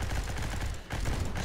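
Dense gunfire rattles in the top-down shooter Gene Shift Auto, a continuous loud stream of rapid shots with a brief dip in the middle, with no voices over it.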